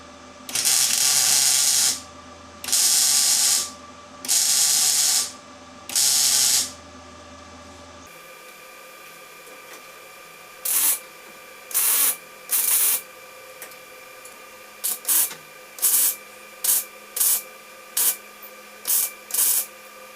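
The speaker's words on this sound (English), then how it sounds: "So yeah, we'll start by getting a few tacks in," MIG tack welding on a Charger car sill panel: four longer loud buzzing, crackling bursts, then a series of short, quieter spitting tacks separated by pauses.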